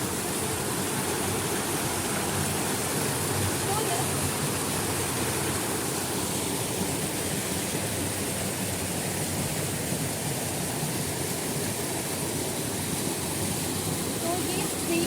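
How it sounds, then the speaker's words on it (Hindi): A stream flowing in Kerala, cascading like a waterfall, with dense steady rushing water filling the whole clip at an even, close, loud level. "तो ये स्ट्रीम है"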